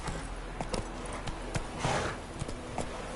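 A horse gallops in The Witcher 3 game, hooves thudding in a quick, uneven clip-clop rhythm over a steady low background rumble, with no talking.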